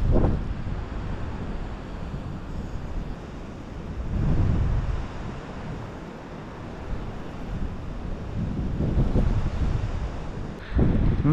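Strong wind buffets the microphone beside a rough sea on the shore, with surging waves rising and falling in loud, roaring swells.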